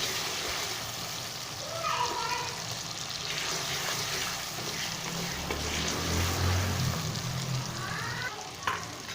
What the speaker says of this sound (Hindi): और साथ इसमें मैं हरी मिर्च जो मैंने रखी हुई है 5 साफ करके वो भी इसमें शामिल कर लेता हूँ, ताकि वो भी इसमें अच्छे से जो है फ्राई हो जाए